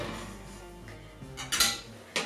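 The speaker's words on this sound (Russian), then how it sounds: "Беру и выкладываю на шикарное блюдо." Homemade cottage cheese and apple cookies being set onto a serving dish, giving light clinks and scrapes against the plate, with a couple of sharper clatters near the end.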